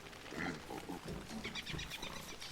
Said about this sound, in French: Qui sont ces cochons?